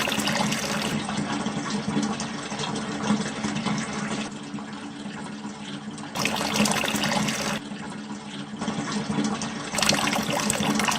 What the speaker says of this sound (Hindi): गर्मियों में कभी कैंस और बोतलों में पीने का पानी भरने वाटर